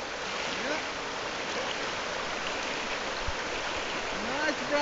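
Steady broadband rush of a flowing river on a trout-fishing trip in Argentina, constant and fairly close with no clear talk over it.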